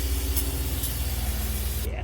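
Brake parts cleaner sprays from an aerosol can onto the throttle body of a 2008 Infiniti G35, a continuous loud hiss that holds steady before cutting off abruptly near the end, with a low hum underneath.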